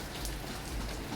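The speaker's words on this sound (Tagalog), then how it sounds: "Maulan nga kasi. Ulan mga idol Pero tuloy pa rin" Steady rain falls outdoors in a constant, dense hiss of drops that stays even and close throughout the brief moment.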